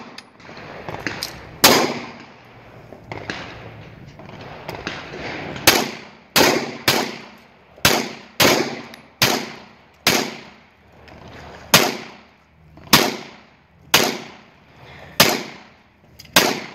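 Sig Sauer P226 pistol fired outdoors: about fifteen sharp, loud single shots, each followed by a ringing decay, at irregular intervals of roughly one second.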